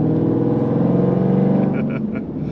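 A 2019 Jeep Grand Cherokee SRT fitted with a Whipple supercharger and Borla exhaust accelerates hard, its deep engine and exhaust roar heard loudly from inside the cabin as someone talks over it.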